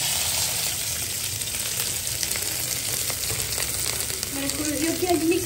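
Onion hits hot oil with garlic in a pan, giving a loud, continuous sizzle and crackle. Light stirring scrapes run through it and the frying grows busier toward the end, with no voices.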